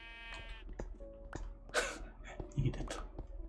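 Sheep in Minecraft give a soft, brief bleat near the start, followed by quiet clicks, a sniff and low murmuring sounds from a nearby person.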